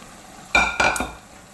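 Mutton liver pieces mixed in a pan of curry masala: two quick, close bursts of stirring and scraping with a brief sizzle, set against near silence.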